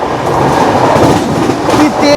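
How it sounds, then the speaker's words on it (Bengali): A fast express train, the 12863 Howrah–Bengaluru Superfast, roars past close by at about 130 in fog, a loud rushing rumble with rhythmic rattling of wheels, ending with a brief high squeal. "এই কুয়াশার মধ্যেও নাকি ট্রেন 130-এ চলছে"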